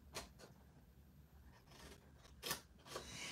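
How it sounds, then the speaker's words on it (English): Scissors snip through scored paper while a bee box is being made, a few short quiet cuts spaced apart with a louder pair near the end, with no talking. "I'm going to cut up just to that first score line that I come to"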